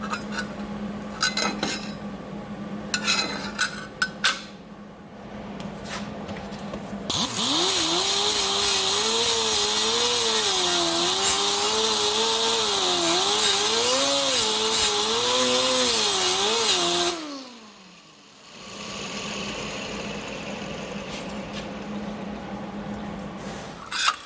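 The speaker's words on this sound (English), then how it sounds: "So you saw me there grind it all off." An angle grinder grinds down a weld on an 18 gauge metal panel in a workshop, a steady loud whining run of about ten seconds, framed by clinks and handling noises of metal before and after.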